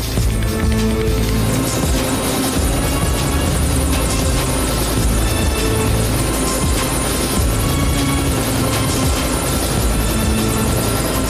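A helicopter about to land nearby roars continuously and loudly, its dense rotor and engine drone filling the whole stretch without letup and with no voices over it.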